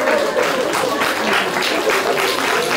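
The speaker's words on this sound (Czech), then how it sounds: "nevím, jestli tleskají chlapi nebo ženy" Steady applause from a live audience at a public reading event, a dense wash of many hands clapping continuously at even loudness with faint voices mixed in.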